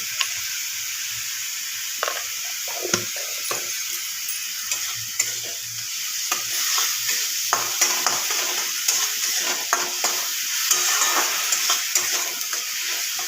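Katla fish frying in a pan with salt, a continuous hissing sizzle broken by frequent small pops and spatula clicks, close and fairly quiet.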